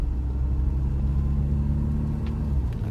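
A Mahindra Scorpio N SUV driving and accelerating on the road, heard from inside as a steady low engine rumble and road drone, loud and continuous.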